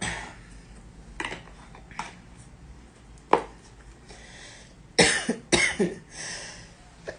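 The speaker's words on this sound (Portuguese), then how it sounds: "Esse tempo seco me dá muita tosse" Several sharp, dry coughs sound close up, one isolated and then a tight cluster of three, over quiet room hiss.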